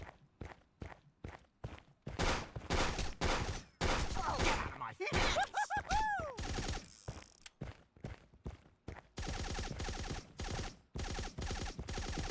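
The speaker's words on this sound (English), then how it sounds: "Why do you keep shooting?" Gunfire and clicking mechanisms in the video game Frens vs Frens come in rapid bursts of sharp cracks, with a few whooshing, sweeping tones and a steady rattling stretch, all close and loud.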